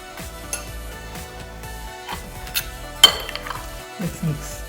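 Mutton curry ingredients with vinegar, tamarind and turmeric get mixed in a pot, with repeated clinks and scrapes of a utensil against metal, one louder knock midway, and faint voices in the background.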